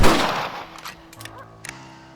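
A rifle shot from Red Dead Redemption bursts loud and close at the start, then its echo fades away, followed by a few sharp clicks and clanks.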